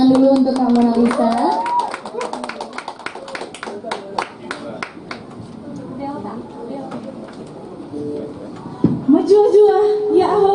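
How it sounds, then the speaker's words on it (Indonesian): Audience clapping at the Festival Lagu Nusantara 2020, an Indonesian regional song festival. A burst of scattered hand claps sits under voices and singing, then fades into murmur and talk. "tepuk tangan dulu"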